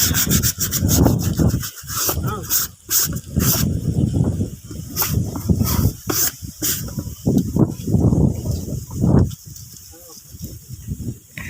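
Morning bath of a bull elephant, its skin scrubbed with a brush in loud repeated rasping strokes close by, irregular in rhythm, with splashes of water and a voice talking now and then.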